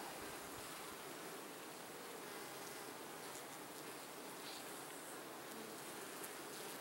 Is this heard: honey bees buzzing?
yes